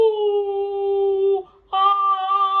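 A tenor sings a sustained G4 in head voice, a steady clear pure tone, then slides up after a short break into another held note, close and solo.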